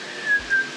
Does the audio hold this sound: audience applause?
no